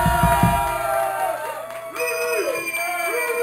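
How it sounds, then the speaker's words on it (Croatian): Live audience cheering and whooping at a comedy show, a dense crowd roar with scattered yells, loud and close, with a voice shouting over it at the start. "Dajte aplauz za Malo"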